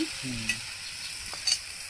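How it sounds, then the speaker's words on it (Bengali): A tomato, onion, ginger, garlic and chilli masala fries softly in a pan, a quiet steady sizzle with a couple of brief utensil clinks and a faint tonal sound early on. "দেখুন বন্ধুরা কত সুন্দর লাল লাল করে ভেজে নিচ্ছে"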